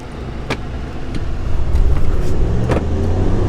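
RAM trucks, a 6.4L V8 and a 5.7L V8 eTorque HEMI, race in a shootout, engines roaring and building in a dense low rumble with passing whooshes and swells, loud and close throughout.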